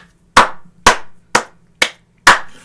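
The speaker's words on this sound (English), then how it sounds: "And then clap it up" Five sharp, separate hand claps ring out alone against a quiet background, evenly spaced about half a second apart.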